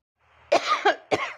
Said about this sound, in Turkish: tozdan öksürüyorum hep